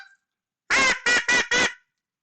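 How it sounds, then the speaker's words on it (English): A hand-blown duck call sounds four short, loud, nasal quacks in a quick rhythm, close and alone in quiet surroundings. "Mr. Ermer has sanitized his very own duck and goose calls"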